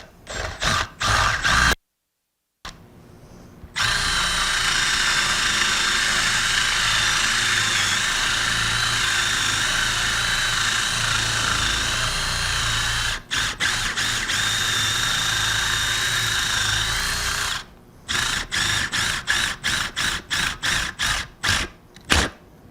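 A drill press bores through a metal lamp part, with a continuous whirring grind that runs for most of the stretch after a short stop, then gives way to a series of brief, choppy bursts.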